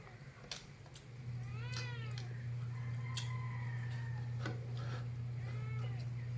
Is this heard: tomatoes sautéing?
no